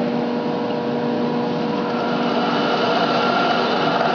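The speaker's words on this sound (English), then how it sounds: "turn the machine on" Milling machine fitted with a 3/4 inch diameter cutter runs at a steady whine during edge-finder setup, loud and constant with a faint hum and no talking.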